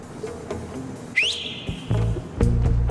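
A person whistles one sharp rising note that then holds steady, set among quiet room noise and a few dull knocks.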